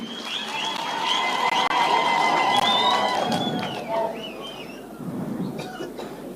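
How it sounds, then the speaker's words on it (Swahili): Guests at a gathering applaud, a sustained patter of clapping with crowd noise rising and swelling for several seconds; a voice and tonal sounds carry over the top. "Makofi jameni."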